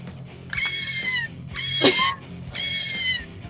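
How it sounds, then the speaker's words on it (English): A cat meows three times in a row, each a drawn-out, nasal cry about half a second long, heard close over a low background hum. "Meow."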